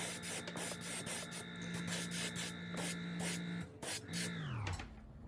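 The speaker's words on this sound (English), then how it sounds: "We're going to spray the spine and the shoulder of the bait." Paint spray gun misting pearl green paint onto the spine and shoulder of a bluegill fishing lure, a continuous close hiss in short pulsing bursts over a steady hum that drops in pitch near the end.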